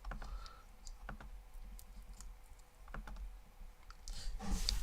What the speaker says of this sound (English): Pardon the clicking, that's just the paint fill.